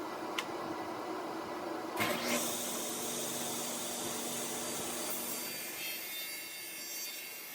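Table saw ripping through two wood pieces taped together along the outside line, a sustained whine with a buzzing cut that starts abruptly and holds steady, fairly quiet and with no talk.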